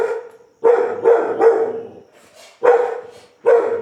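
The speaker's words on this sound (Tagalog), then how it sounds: "May aso." Dog barking at a quiet roadside eatery on the Sagada Loop, sounding as a few loud, close barks in short bursts separated by brief pauses, with no talk over them.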